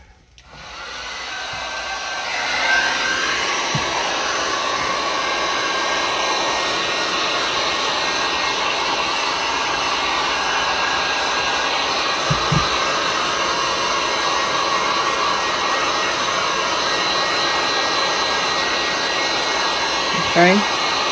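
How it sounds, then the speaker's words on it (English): Heat gun runs continuously with a steady, loud airy blowing roar after a quick start-up, holding level for about twenty seconds with a few faint clicks and handling bumps over it. "Grab my little heat gun."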